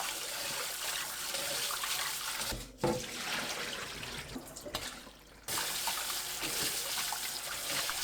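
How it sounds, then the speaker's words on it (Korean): Running water from a tap splashes continuously as perilla leaves are rubbed and rinsed in cold water, with brief pauses and shifts in the flow as the leaves are moved about. "찬물에 두세 번 비벼가면서 헹궈냅니다."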